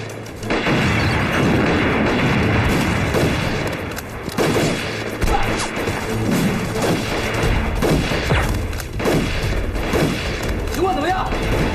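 Dense heavy machine-gun fire and explosions rage through a wartime battle scene, with sustained rapid bursts and deep booms filling the whole stretch, loud and close, while voices shout faintly beneath the din.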